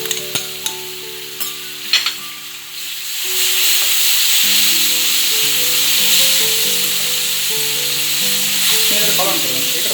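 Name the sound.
potatoes frying in oil with spices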